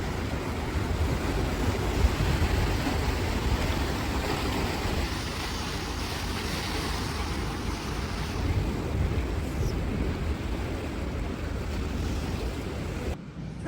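Sea waves at the INS memorial in Diu, a steady rushing surf with heavy wind buffeting the microphone throughout.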